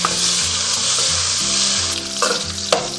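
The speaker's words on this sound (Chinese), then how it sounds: "锅中倒少许食用油，然后下入五花肉炒出油脂" Pork belly fries in a little cooking oil in a wok, a loud, close, continuous sizzle with crackling and the scrape of stirring throughout.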